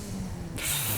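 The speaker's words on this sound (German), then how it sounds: "Mal ein ordentliches Nitrosystem, das Wagen 4 da auspackt." Nitro boost on a race car in the street racing game Juiced 2: a sharp, loud rushing hiss cuts in abruptly after a low engine drone and holds steady to the end.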